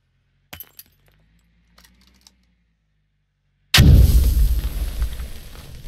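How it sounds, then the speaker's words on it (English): An F1 grenade detonates in the tactical shooter Squad: after a few faint clicks and small metallic sounds, one sudden, heavy, booming blast hits close and loud, then rumbles away over the next two seconds. "F1 grenade death"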